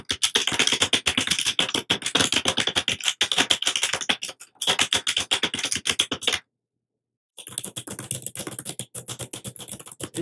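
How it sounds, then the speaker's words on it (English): Rapid, steady typing on a Logitech K480 keyboard with crisp individual keystrokes, close and clear, pausing briefly twice, including a full second of silence, before resuming. "This is how the K480 sounds versus the MacBook Pro keyboard."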